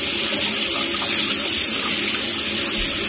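Tap water runs steadily from a faucet into a sink while glasses are rinsed, a continuous close-up splashing rush that lasts throughout with no talking.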